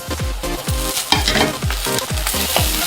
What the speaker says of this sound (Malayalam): ഇപ്പോൾ ഈ ഉള്ളിയൊക്കെ ചെറുതായിട്ട് ഞാനൊന്ന് വഴറ്റിയെടുത്തിട്ടുണ്ട്.